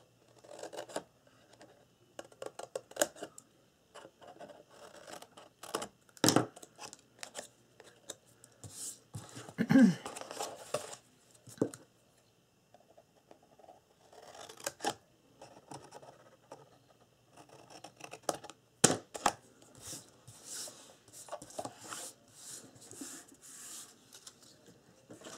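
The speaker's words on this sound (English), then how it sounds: "And you'll cut these out on all 4 corners of your cover." Paper or cardstock corners being snipped from a folio cover with scissors, a run of short, close cutting and rustling sounds with scattered sharp snips and handling noise, no talking.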